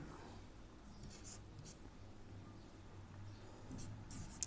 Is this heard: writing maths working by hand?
yes